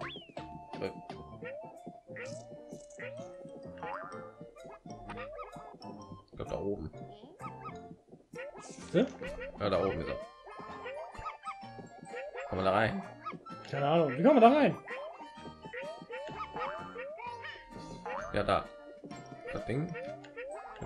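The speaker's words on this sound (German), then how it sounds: "Ich habe einen Hund gehört." Dog barks and yips in the game Yoshi's Crafted World, short sounds scattered among music and game effects while players talk throughout.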